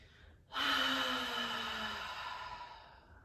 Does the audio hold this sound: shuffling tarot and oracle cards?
no